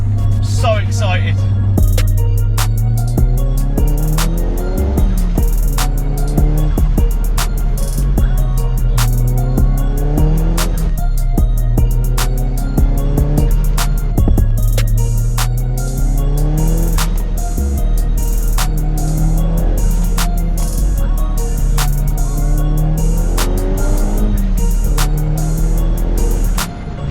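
A 400 bhp Nissan Pulsar GTI-R driven on country roads, its engine droning steadily and rising and falling through gear changes, heard from inside the car under continuous talk.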